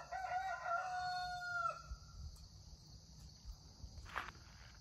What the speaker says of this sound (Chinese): 听着公鸡打鸣的声音